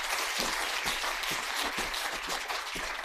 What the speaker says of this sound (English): let's please give Shamila Subramani a big round of applause.